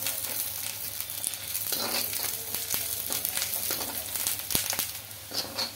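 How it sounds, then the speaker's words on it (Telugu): Sliced onions, long-cut green chillies and curry leaves fry in oil in a pan, making a steady soft sizzle with occasional clicks and light stirring scrapes, heard close and without talk. "ఉల్లిపాయలు బాగా బ్రౌన్ కలర్ అయితే వచ్చే వరకు ఫ్రై చేసుకోవాలండి"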